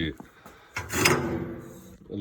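Doors on a stainless wood-fired BBQ smoker slide along their tracks with a rubbing, scraping rasp that swells mid-clip and fades, close by after a few light knocks, with someone talking over parts of it.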